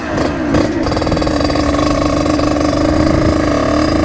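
A 50cc motorcycle engine on a road trip from France to Germany, revving loud and close in a steady buzzing drone with short rises in pitch, heard alone without talk.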